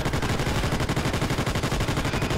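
Rapid automatic gunfire from a bomber in the Call of Duty: Ghosts Extinction game, a loud, steady stream of bursts at an even rhythm across the whole moment, with no voices.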